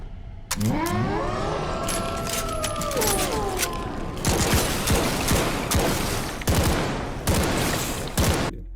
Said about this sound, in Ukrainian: пострілів, що оглушливо відлунюють у холодному підземеллі